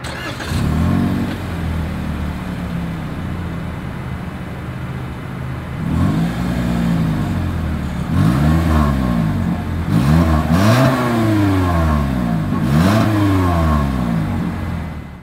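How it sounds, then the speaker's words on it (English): A 2023 Toyota Corolla's engine revs repeatedly through the exhaust, several sharp throttle blips rising and falling after a steady idle, loud and close. "as always, here is that exhaust clip"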